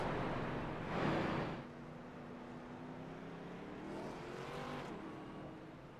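Race cars in an ARCA racing video game roll around Dover on a pace lap, a soft engine drone with one car swelling past early and faint rising and falling tones from others, no talk.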